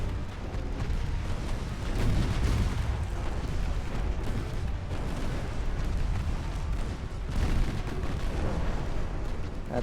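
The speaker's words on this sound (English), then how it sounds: "That's some more torpedo hits." Torpedo hits on warships in the naval battle game Ultimate Admiral: Dreadnoughts, heard as a continuous, loud rumble of deep booms and explosions with a few heavier surges.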